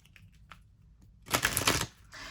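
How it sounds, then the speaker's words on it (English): After a few faint ticks, a burst of rapid riffling as a deck of tarot cards is shuffled close by, then a softer rustle. "Let's shuffle these bad boys up"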